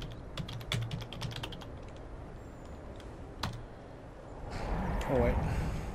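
Keyboard typing as a command is entered into the Skyrim console on a computer, a flurry of sharp key clicks early, a lone tap midway, then rustling handling noise near the end.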